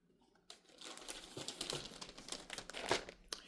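A paper envelope is ripped open by hand: after a brief quiet, close crinkling and tearing of paper runs in irregular bursts, fairly soft, with no talking over it.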